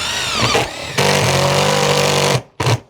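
A power driver whines as it drives a screw through a ColorBond corrugated roofing sheet on the ridge into timber. One loud sustained run cuts off abruptly, followed by a short second burst, close by.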